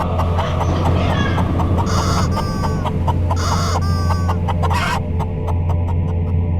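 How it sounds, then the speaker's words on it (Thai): A fighting rooster crows loudly several times with clucking and wing flutters, over a steady low hum of background noise. "เสียงไก่ชนของผมดิ้น เสียงกระพือปีกสะบัด และร้องเสียงดังสนั่น"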